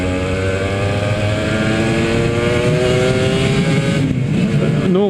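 Engine of a 2009 Cagiva Raptor 125 two-stroke motorcycle runs steadily and loud throughout, its pitch rising in smooth revving sweeps before shifting and dropping near the end.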